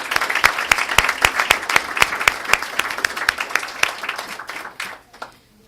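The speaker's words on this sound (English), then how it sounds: "let's give another round of applause for all the students of the month" An audience applauds students of the month at a school board meeting, a close, steady burst of many hands clapping for about five seconds before fading quickly to quiet.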